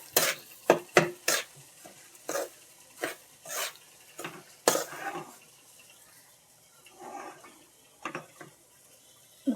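A spoon scrapes and knocks in a pan in uneven strokes, roasting semolina in ghee for sheera over a soft sizzle. The clatter is loud and close, with quieter gaps between strokes.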